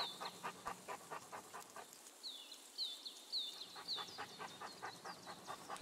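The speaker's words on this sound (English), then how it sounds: "I'm petting the dog." A dog pants in quick rhythmic breaths while being petted in a video game, with a short burst of chirpy bird calls joining partway through.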